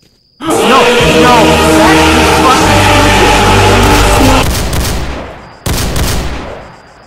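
Sustained heavy automatic gunfire from the video game S.T.A.L.K.E.R. Call of Chernobyl, loud and dense for about four seconds, then thinning out before a sharp burst near the end.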